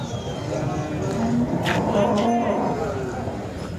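Khillar cows moo at the Sangola cattle market, with a few drawn-out lowing calls close by over a busy outdoor murmur and people talking nearby.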